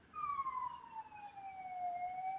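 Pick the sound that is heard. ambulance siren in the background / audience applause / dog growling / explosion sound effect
ambulance siren in the background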